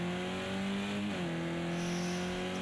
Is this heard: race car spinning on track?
yes